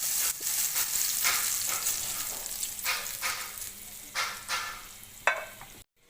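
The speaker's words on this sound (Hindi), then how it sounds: "3-4 जो है ना वो गोल मिर्चा ऐड कर दें लाल वाली, और इनको ना फ्राई कर लें।" Garlic and round red chillies frying in oil, a continuous bright sizzle with bursts of crackle and occasional stirring scrapes, close and fairly loud, cutting off abruptly near the end.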